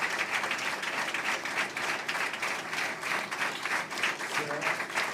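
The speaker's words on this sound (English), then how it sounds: "we are willing to applaud to the audience" At a conference on missing persons, an audience breaks into continuous applause, many hands clapping in a broad, fairly distant wash with gentle swells, quieter overall and unbroken by speech.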